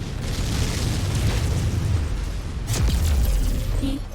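An incoming missile explodes in MechWarrior 5, a loud, rumbling boom held under sustained low roar, with a second sharp blast near the end.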